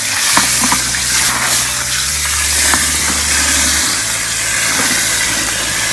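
Crawfish being stirred with a stick in a large pot of dirty water before a crawfish boil, giving a continuous wet churning and sloshing over a steady low engine-like hum from a nearby burner, with no talking.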